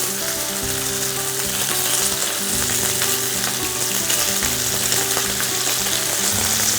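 Bacon frying in oil in a paella pan makes a loud, steady sizzle with dense crackle and spitting, constant and close for the whole stretch.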